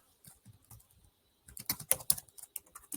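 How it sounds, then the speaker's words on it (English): Fingers tap on a computer keyboard, first in a few light, scattered keystrokes, then in a faster, louder burst of close typing, with no voices. "I'm typing on the wrong keyboard."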